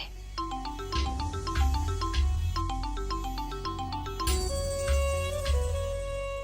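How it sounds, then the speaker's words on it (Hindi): A phone rings while a call is placed, a repeating electronic melodic ringtone of bright plinking notes in a steady looping pattern that switches to a different tone near the end, with no talking. "उस वकील के बच्चे को फोन लगाती हूँ"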